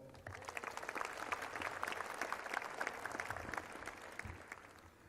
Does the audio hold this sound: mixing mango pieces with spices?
no